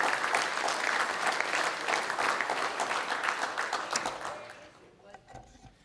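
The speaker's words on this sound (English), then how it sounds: "One more round of applause for them." Audience applause at a South Carolina real estate awards and Hall of Fame ceremony, a dense, steady wash of clapping that thins and fades toward the end as a few scattered claps remain.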